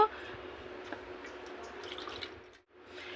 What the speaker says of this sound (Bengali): এগুলোকে আমি ধুয়ে তুলে নেব